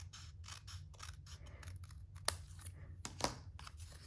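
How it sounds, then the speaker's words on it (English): Scissors or a paper trimmer trim cardstock for a pop-up gift card pocket, giving a few soft snips and quiet paper rustles over a low background hum, with two sharper cutting clicks standing out near the middle. "You can use scissors or you can use your paper trimmer for this part. So simply trim this off."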